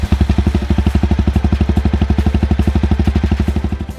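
Jawa Perak bobber motorcycle with dual exhausts, rumbling loud and close in a fast, even train of throaty pulses, with no talking over it.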